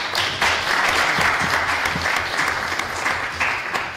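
An audience at a talk on the Black movement claps in steady, close applause that fills the whole clip at a constant level.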